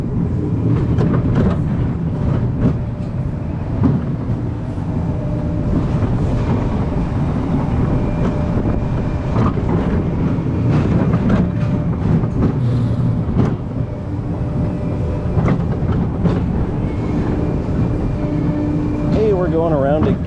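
Zamperla roller coaster train at an indoor-outdoor family entertainment center in Texas, heard from a rider's seat as it rumbles steadily along the track with constant wind and rattling noise, while riders talk over it.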